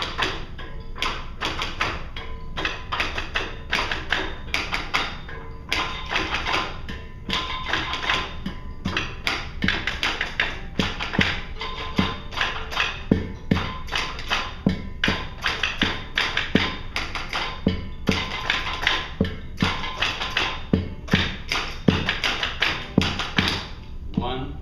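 Orchestra players rap on their instruments and strike strings col legno, a dense run of sharp taps and knocks repeating rhythmically throughout, loud and close, with talk mixed in.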